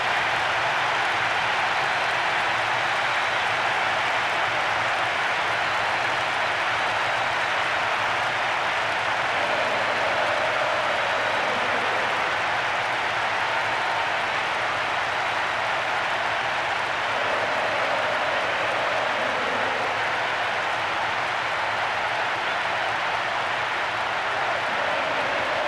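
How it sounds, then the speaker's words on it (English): A stadium crowd in PES 2010 on PlayStation 2 roars after a goal, a dense, steady wall of cheering and applause that holds loud and unbroken throughout. "A huge roar of approval from the record crowd today."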